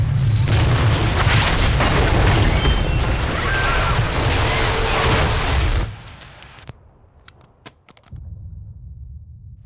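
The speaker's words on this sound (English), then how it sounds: "indicate a massive explosion in a residential neighborhood" A massive explosion rips through a residential neighborhood in a cinematic from the Marvel: Ultimate Alliance 2 video game: a loud, dense, sustained roar and rumble that cuts off abruptly into faint clicks and a quieter low drone.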